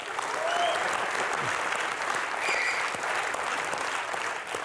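A studio audience on the Comedy Nights With Kapil show breaks into sustained, full applause with a few whoops and whistles rising above the clapping.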